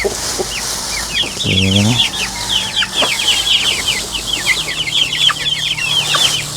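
Flock of backyard chickens clucking and chattering busily nearby, with a short rooster-like call early on and a brief spoken word from a person.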